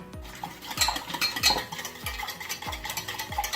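A spoon stirs a cornstarch mixture in a bowl, giving regular scraping clinks against the container in a quick rhythm at close range, with no voices.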